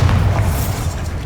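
A Bombarda blasting spell goes off in Hogwarts Legacy, a loud, close, booming explosion with a deep low rumble that stays strong and slowly fades over about a second, with no talking.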